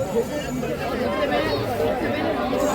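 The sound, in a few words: crowd chatter at a fair entrance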